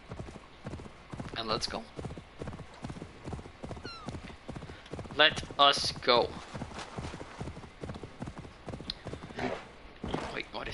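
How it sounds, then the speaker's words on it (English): Horse hooves pound in a fast galloping rhythm in Assassin's Creed Valhalla, close and loud, with a whinny partway through and someone talking over the hoofbeats. "Let's get the good horsey. My beautiful horse."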